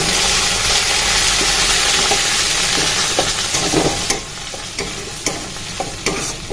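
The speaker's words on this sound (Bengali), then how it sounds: "এই ফোড়নের মধ্যে আমি দিলাম যে টমেটো বাটাটা টমেটো আদা লঙ্কা যে মিক্সচারটা তৈরি করে রেখেছি" A tomato, ginger and green chilli paste fries loudly in hot tempering oil. A dense sizzle gradually settles while sharp spoon scrapes and stirring clicks punctuate the second half.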